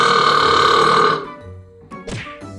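A long, loud, buzzing human burp in the style called the Burpstep rumbles for over a second, then breaks off into a short throaty gulping tail.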